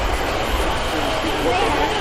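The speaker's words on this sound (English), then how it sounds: "This is another train." A diesel train passing nearby, a steady broadband rumble and rush of wheels under continuous noise for a couple of seconds.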